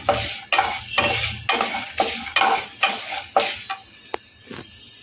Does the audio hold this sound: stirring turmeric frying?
yes